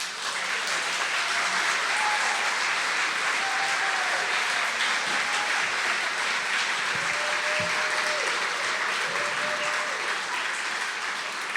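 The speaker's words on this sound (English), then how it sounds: "I'd like to give a round of applause again for Eddie, for Carlos, Cassandra, Ruth Ann," An audience at a storytelling evening applauds loudly and steadily for the speakers, with a few voices calling out over the dense, sustained clapping.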